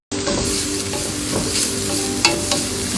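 Grated carrot fries with softened onion for kabsa as a spoon stirs the pan, producing a loud steady sizzle with occasional scraping and clinks close by.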